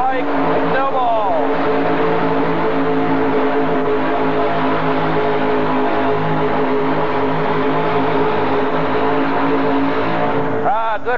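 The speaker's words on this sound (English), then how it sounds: "Good run for Mike in a Chevy-powered machine." A Chevy-powered four-wheel-drive pulling truck makes its run at a 1985 NTPA tractor and truck pull in Indianapolis, a loud sustained engine roar that holds steady for several seconds before cutting off.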